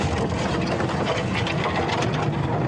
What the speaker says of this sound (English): sorry about the noise as we drive over these monkey oranges